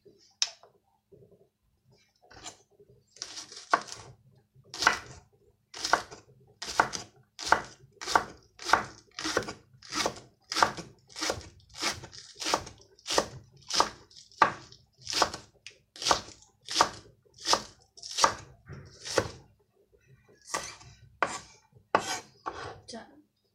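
A knife chops green onions on a cutting board in a steady run of about two dozen crisp, evenly spaced strokes, close and clear, with a few slower cuts at the start and end.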